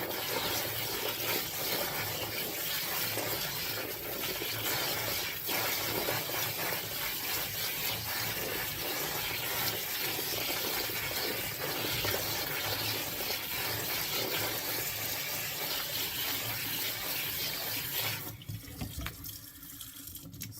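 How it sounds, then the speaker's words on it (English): Tap water runs steadily into a kitchen sink while fresh cranberries are rinsed, a continuous close splashing rush lasting throughout that thins and breaks up near the end, with no talking. "I'm going to rinse these off. And as I'm rinsing them again, I'm going to also check."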